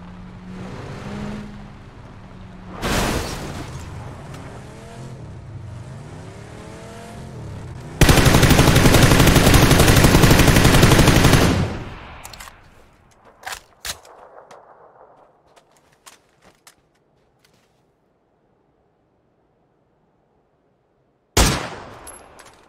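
Gunfire in PUBG on the Taego map: scattered single shots, then a sustained loud burst of rapid automatic fire lasting a few seconds, trailing off into sparse distant shots and quiet, with one more sharp shot at the end.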